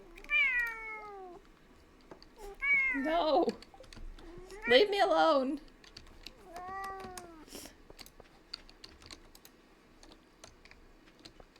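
A pet cat named Grunge lets out several loud, drawn-out meows and screaming yowls in bursts, close up, while keyboard typing clicks in the background and a person speaks briefly between the cries.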